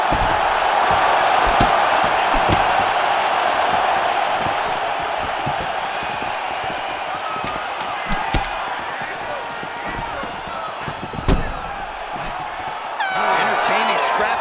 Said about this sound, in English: the crowd's appreciating the action here